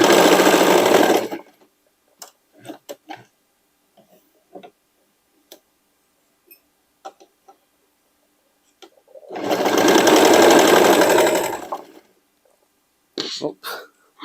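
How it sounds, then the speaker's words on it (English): A sewing machine runs freeform stitches on the pocket of a dress made from sweatshirts and fabric scraps. There is a short loud burst, then quiet fabric handling with small clicks, then a longer steady run of stitching and more clicks. "This will be kind of freeform stitching."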